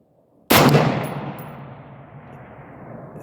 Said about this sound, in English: I think it hit it. It just didn't go over. I heard the dink.